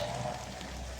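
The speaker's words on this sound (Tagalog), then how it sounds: "narinig nyo guys, walang tigil ang ulan" Continuous heavy rain pouring down outdoors, a dense, even hiss that carries on without a break through the brief moment.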